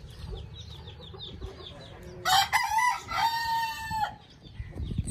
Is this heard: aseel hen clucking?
yes